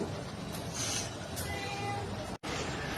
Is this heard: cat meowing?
yes